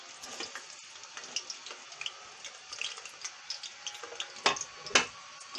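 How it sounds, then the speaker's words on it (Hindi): Onions frying in hot cooking oil for chana pulao give a steady, moderate crackle and hiss with scattered pops and two sharper louder bursts near the end, no voices. "अब ये गर्म हो गया, इसमें प्याज डाल दिए।"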